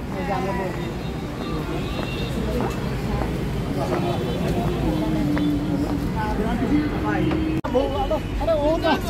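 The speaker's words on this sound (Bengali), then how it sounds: "এই হচ্ছে বড় দোতলা বাস।" A steady low engine rumble fills the interior of a double-decker city tour bus in Kolkata, running continuously under nearby conversation, with a brief click near the end.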